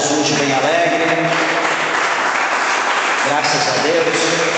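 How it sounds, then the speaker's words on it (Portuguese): A church congregation claps for Jesus in loud, dense applause that holds steady throughout, with voices and cheering mixed into the clapping. "dê uma salva de palmas para Jesus bem alegre"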